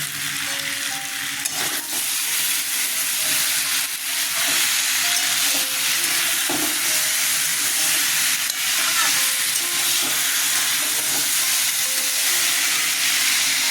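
A spiced potato and raw banana curry sautéing in a pan on the stove, a steady, continuous sizzle with faint stirring scrapes, fairly loud and unbroken throughout.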